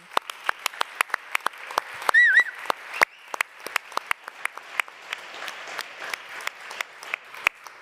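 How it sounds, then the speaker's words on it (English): Sparse, slow applause from a small audience at a conference closing, individual claps ringing out in an irregular rhythm, with a brief whistle partway through. "I would like to call for a big round of applause for them"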